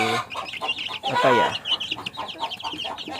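Bangkok chickens clucking close by in a rapid, busy run of short calls, with one louder squawking burst in the middle and no talk over them.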